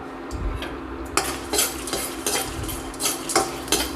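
Cloves, cardamom, cinnamon and dried red chillies frying in a pan for an Andhra stuffed brinjal curry, with a spatula scraping and clinking against the metal in repeated close strokes over a low, steady sizzle.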